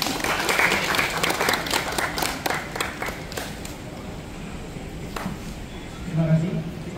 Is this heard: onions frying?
no